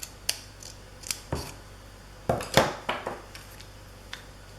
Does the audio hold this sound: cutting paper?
yes